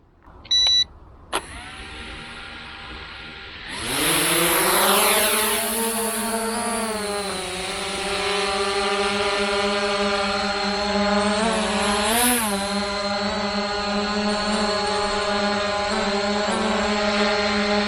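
A JJRC X22 drone taking off: after a couple of faint clicks, its motors spin up into a loud, rising electric whine that settles into a steady, sustained hum with small pitch wobbles.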